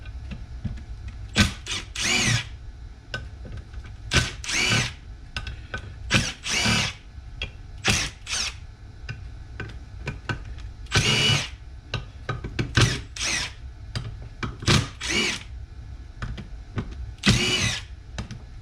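Power tool driving a torque bit into the transmission screws of a Jeep Grand Cherokee NAG1 transmission, a series of short loud whirring bursts separated by brief pauses, close up.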